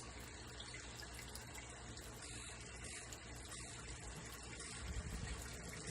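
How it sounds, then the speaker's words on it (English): Water rushes steadily in a DIY moving-bed tide filter tank as it flushes like a toilet, a constant faint gushing hiss that swells with a low surge near the end. "this thing is going to flush like a toilet"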